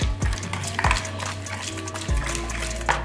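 A spoon stirs shrimp with seasoning mix and half a lemon in a bowl, several sharp clinks and scrapes against the dish amid a soft wet squelching of the coated shrimp.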